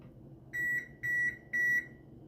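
Kitchen oven timer beeping three times in an even rhythm, each tone about a quarter second long and clear against a low room hum, with no voices.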